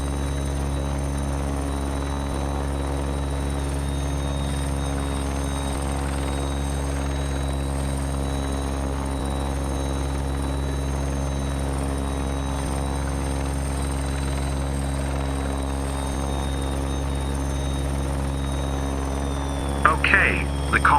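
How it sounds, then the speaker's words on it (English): Helicopter in a flight simulator game, a steady low rotor drone with a constant engine hum holding at the same level throughout, and a brief burst of other noise near the end. "So let's get the chopper and Andrew down on the street."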